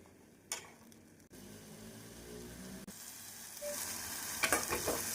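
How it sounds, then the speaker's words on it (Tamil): Tomatoes and onions sautéing in a pan over high then medium flame, a soft sizzle with occasional stirring scrapes, growing slightly louder toward the end. "நாம் 1 நிமிடம் ஹை ஃப்ளேமில் வதக்கி பின் மிதமான தீயில் 1 நிமிடம் வதக்க வேண்டும்."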